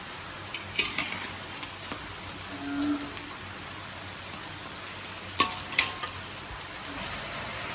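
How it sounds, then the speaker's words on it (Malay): Oil sizzles and crackles steadily as chicken fries close by, with occasional louder pops and spatters over a constant hiss. "untuk breakfast ni aku ada goreng ayam goreng sikit dengan kopi lah"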